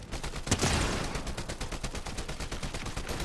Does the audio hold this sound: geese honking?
no